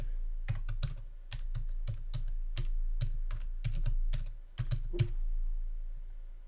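A road name being typed on a computer keyboard, heard as a close, quick run of distinct key clicks with short pauses and no talk.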